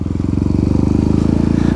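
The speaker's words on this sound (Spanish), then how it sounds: "vas a ver que a la moto le cuesta como un poquito más moverse" A motorcycle engine thrums steadily under load in second gear, its low pulsing rhythm strong and close, pulling evenly without revving higher.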